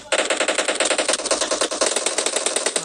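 Rapid bursts of automatic gunfire in the mobile game PUBG Mobile, sharp repeated shots in a fast, steady rhythm, loud and close, with no voices.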